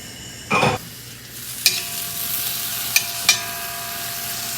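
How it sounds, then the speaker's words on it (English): Sliced garlic and diced shallots hit hot mustard oil, giving a brief loud burst of sizzle followed by a steady frying hiss, broken by a few sharp clacks of a utensil against the pan. "Heat up the mustard oil, add about 4 cloves of garlic, slice. I'm gonna add 2 or 3 shallots that I've diced up."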